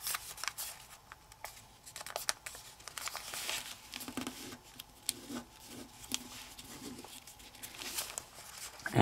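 Paper folded for an origami praying mantis, with soft crinkling, creasing swipes and light rustling that stay close and fairly quiet throughout.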